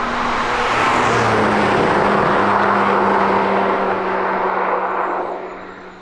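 A Porsche 718 Spyder engine drones steadily and loudly throughout, a broad exhaust rumble that holds for several seconds, then fades away near the end.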